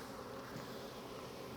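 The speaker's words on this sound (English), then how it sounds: "as the bees are kind of collecting on top, you just want to smoke them down" Steady low droning buzz of honeybees around an opened hive during a summer inspection, a continuous soft hum of many insects with no voices.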